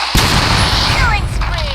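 Gunfire in the video game Free Fire blasts loudly and close, with a sharp report followed by ringing, sliding tones over a dense background.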